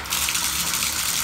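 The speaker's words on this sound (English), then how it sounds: "Whoa, it's a shower." Hotel bathroom shower running at full pressure, a loud steady broadband rush of spraying water that continues without a break and without talk.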